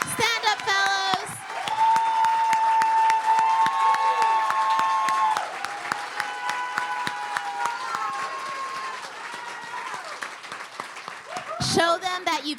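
A crowd applauds and cheers for the event's fellows standing up, a sustained dense wave of clapping that rises at first, eases, then swells again with voices mixed in.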